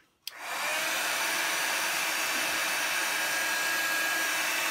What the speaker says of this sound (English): And as your heat gun heats up,